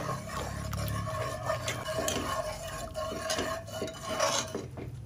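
A spoon mixes cooked dal and tomatoes in a pressure cooker, scraping and clinking against the metal in an uneven rhythm, with faint voices in the background.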